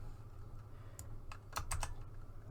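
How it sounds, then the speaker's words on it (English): Commands being typed on a computer keyboard for a Counter-Strike Dust 2 practice setup, a few faint scattered keystrokes clicking over a low background hum. "let me quickly just start typing all these in"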